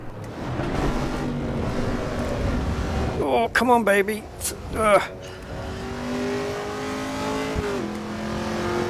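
A race car engine in Assetto Corsa Evo drones and revs, with sharp gear-change pitch sweeps midway, while someone talks over it.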